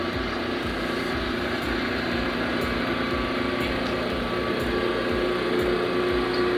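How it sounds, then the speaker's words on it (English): A pump in an automated sensor-monitoring setup runs with a steady, continuous mechanical hum and whine, holding an even level throughout without stopping. "So I'm going to shut this pump off."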